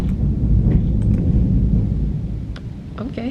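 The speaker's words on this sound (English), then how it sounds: "thunder." Deep, sustained thunder rumbles loud and close, rolling steadily for a few seconds with no voices over it.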